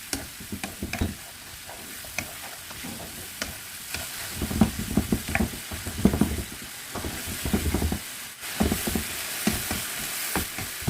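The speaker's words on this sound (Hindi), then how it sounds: "2 से 3 मिनट हम यहां पर चिकन को फ्राई करेंगे।" Boneless chicken seasoned with salt fries in a pan, hissing softly while a spoon scrapes and knocks against the metal in irregular bursts, close and moderately quiet.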